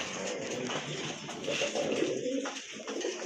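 White and black Lahori pigeons, a pair of big birds, coo softly in low, murmuring throbs against a busy background of other birds, with no talk over them.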